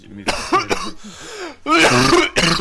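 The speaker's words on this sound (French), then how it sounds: "Pourquoi je tousse?" Several harsh coughs and throat-clearing bursts, close and loud, in quick irregular succession.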